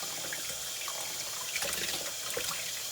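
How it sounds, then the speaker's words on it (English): A faucet runs steadily as a doll wig is rinsed under it at a sink, giving a continuous close splashing hiss of water with no talking. "just rinse it using the faucet this time instead of swirling it"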